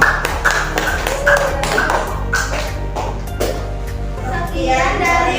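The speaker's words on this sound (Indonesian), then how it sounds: "tepuk tangan buat kelompok" Students in a school classroom clap for a presenting group, a burst of scattered, uneven hand claps at moderate distance with children's voices talking over and around them.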